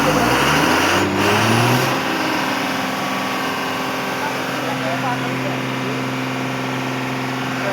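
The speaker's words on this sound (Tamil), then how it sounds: "பேட்டரி கழட்ட முடியாத சமயத்தில் 2 ராடை வச்சு ஸ்டார்ட் பண்ணிட்டாங்க." A vehicle engine jump-started with two rods because the battery could not be removed, revving loudly at first and then settling into a steady running drone, with voices in the background.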